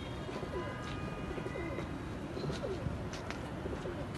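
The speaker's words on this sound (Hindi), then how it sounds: "ये जी माशाल्लाह आना शुरू हो गए हैं कबूतर" Pigeons in Lahore coo repeatedly in soft, low rolling calls over a steady outdoor background hum, moderately close, with no talking.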